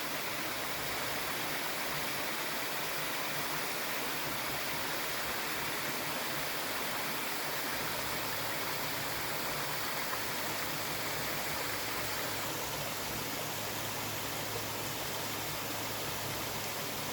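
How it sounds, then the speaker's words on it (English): Water cascading down Harcourt Cascades along a hiking trail makes a constant, dense hiss and rush, steady and fairly close with no break throughout. "Water cascading down."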